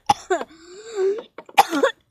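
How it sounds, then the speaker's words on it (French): Two sharp coughs, one at the start and another near the end, with a throaty voiced sound drawn out between them, close to the mic. "tu me fais tousser tellement j'en ai marre."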